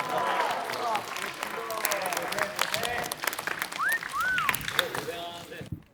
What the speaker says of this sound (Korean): 오늘도 너무 수고한 우리 모두를 위해서 다 같이 박수 한번 칠까요?